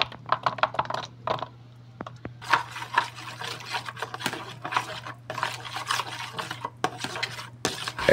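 Calamansi juice and soy sauce marinade with ground pepper and garlic being stirred in a bowl, a run of quick close clinks and scrapes in irregular bursts over a low steady hum, with no voices.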